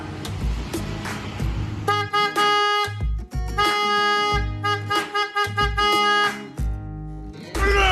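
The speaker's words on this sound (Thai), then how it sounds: "เริ่มต้นจากตัว 400เิร์ตกันนะครับ" A PIAA 400 Hz horn fitted to a Suzuki V-Strom motorcycle sounds in several bright, high-pitched blasts of varying length, loud and close, with short gaps between them and a voice speaking briefly at the start.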